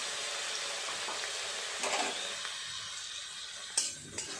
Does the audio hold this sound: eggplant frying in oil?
yes